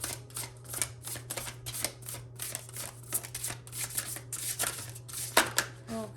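Tarot cards shuffled for a reading, a rapid run of crisp riffling card flicks, close and steady, with someone speaking over it.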